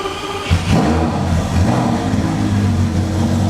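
Lamborghini engine in a project car firing up and settling into a steady, loud rumbling idle with a slightly uneven tone, close by and continuous.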